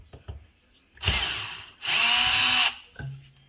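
A power drill whirs in two sustained bursts while backing out the mounting screws of an old GE dishwasher, with a short pause between runs and a few faint clicks and handling knocks around them.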